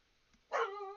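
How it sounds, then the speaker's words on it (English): A dog indoors lets out a single sharp, close bark after a moment of near silence, its tone ringing on briefly before fading. "And there goes my dog. They're barking."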